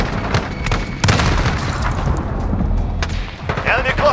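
A grenade explodes in Call of Duty Modern Warfare team deathmatch, with heavy booming blasts amid ongoing gunfire and a brief voice near the end.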